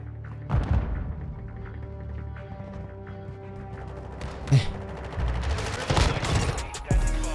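Gunfire in Call of Duty Modern Warfare, a Vel 46 submachine gun match: rapid bursts of shots and thumps over a steady bed of game sound and music, with some sharper impacts.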